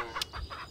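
Chickens on a farm in the video game Hay Day give a few short, close clucks, three quick bursts in under a second with no talking over them.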